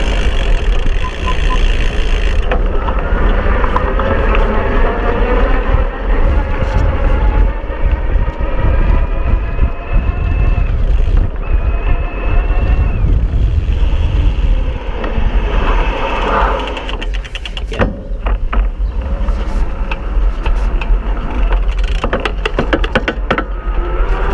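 An iZip E3 ProTour electric bike rides in turbo mode, giving a steady rising motor whine under heavy, continuous wind rush across the microphone throughout.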